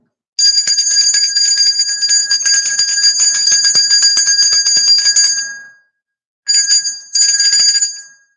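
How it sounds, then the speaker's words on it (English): A single bell rung continuously with a bright, sustained metallic ring lasting about five seconds, then two shorter rings after a brief pause, loud and close with no talk. "I'm gonna ring this bell."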